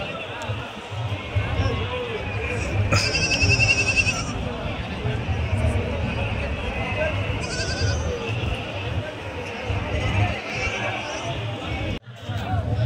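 Nellore Judipi sheep, a large flock of about eighty medium-sized animals, bleat in scattered calls over a steady outdoor din, with a voice talking throughout.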